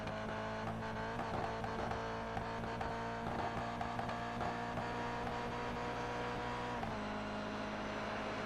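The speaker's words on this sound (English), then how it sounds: "Running it right into that rev limiter" A GT race car engine screams at high revs and bangs off the rev limiter, a steady buzzing drone with a rapid stutter and a brief dip near the end, loud and close.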